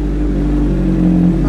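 A superbike engine revs steadily at close range as the bike is taken out through a back gate at night, giving a loud, sustained droning hum with a slight rise toward the end and no speech.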